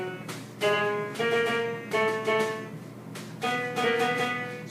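Piano side of a Music Jam electronic playmat being pressed, a handful of bright tinny electronic piano notes and chords struck one after another at a slow uneven pace, close and clear with no talking.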